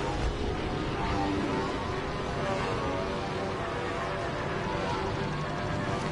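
ARC-170 starfighter engines in the Star Wars Battlefront video game roar in a steady, dense, unbroken drone that stays loud and even throughout, with no talk over it.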